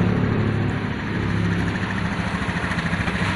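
A car engine runs steadily with its revs raised, a close, continuous rumbling drone with a slight pulsing texture throughout.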